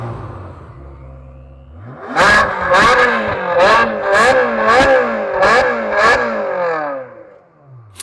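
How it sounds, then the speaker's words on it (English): An early-2000s Ferrari 360 engine idles, then blips sharply about seven times in a rhythmic series of loud, high revs before settling back, close and alone. "Listen to this Ferrari 360 from back in the early 2000s."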